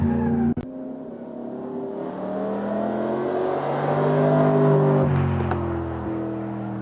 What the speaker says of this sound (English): What a lovely sound that engine makes.